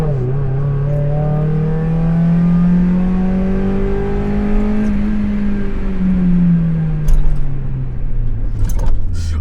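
A Mazda Miata engine revs up steadily as it accelerates past, its pitch climbing then falling away, with a few sharp clicks near the end.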